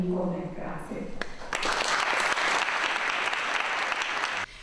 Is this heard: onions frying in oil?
no